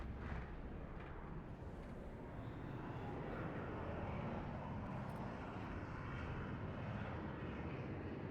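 Helicopters and aircraft roar steadily across a game battlefield mod with flying ships and giant tanks, a dense continuous engine rumble with distant blasts mixed in, no voices.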